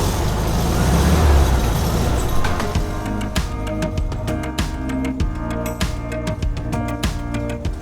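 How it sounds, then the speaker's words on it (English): A 1967 Volkswagen Beetle with its 1.3-litre air-cooled flat-four runs close by, a low throbbing drone that swells briefly before settling into a steady idle with faint clicks and knocks. "For me, the sound is like a purr. It has beautiful flat 4 sound."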